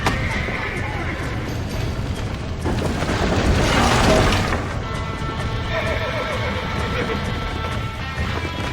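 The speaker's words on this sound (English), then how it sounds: "Now get the horses out!" Horses whinnying and galloping in the video game Red Dead Redemption, loud neighs over thudding hooves and crashing game noise, with a shouted voice in the mix.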